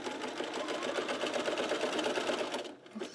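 A sewing machine stitches a Loftus bralette in one steady, continuous run close by, then stops abruptly near the end with a brief final whir.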